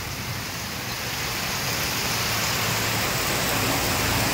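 Heavy, unbroken rain pours down in Daet, a dense, even hiss that holds steady and grows slightly louder throughout.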